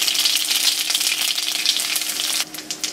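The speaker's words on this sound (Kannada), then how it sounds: "ಅದಕ್ಕೆ ಇಂಗು ಮತ್ತು ಸಾಸಿವೆ ಮತ್ತು ಮೆಣಸಿನ್ಕಾಯಿ ಇದೆಯಲ್ಲ ಅದನ್ನು ಮುರಿದ್ಬಿಟ್ಟು ಹಾಕಿ" Asafoetida, mustard seeds and broken red chillies crackle and sizzle in hot oil, a dense steady hiss close by, easing briefly near the end before resuming.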